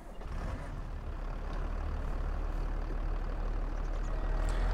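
Case 1455XL tractor engine in Farming Simulator 22, a steady low diesel rumble that settles into a continuous idle drone, moderately loud and unbroken, with no talk over it.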